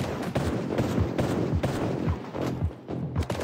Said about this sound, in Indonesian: Pakai shotgun lagi.